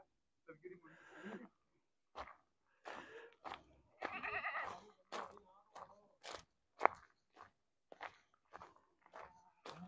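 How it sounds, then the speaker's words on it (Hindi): Goats of several sizes, including a large buck and small kids, chew and crunch feed in short, irregular bites near the microphone among other farm animals, with someone talking intermittently over them. "ये बकरियां हैं"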